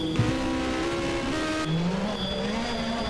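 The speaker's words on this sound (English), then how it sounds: "over the line comes Huart" Race car at the Col St. Pierre hill climb crossing the finish line, a loud close engine whine shifting pitch as it passes, with tire noise and a steady roaring background throughout.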